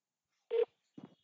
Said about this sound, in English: Okay, so I'm dialing now.